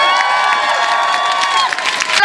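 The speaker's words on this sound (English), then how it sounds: "I ask you to show your solidarity with outdoor, indoor and online sex workers of all gender by giving a big cheer now" Crowd at a Trans Day of Remembrance rally outside the Irish Parliament raising a big sustained cheer, loud whoops and shouts blending into a dense roar for a couple of seconds.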